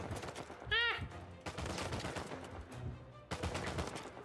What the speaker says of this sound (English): they're shooting me everywhere.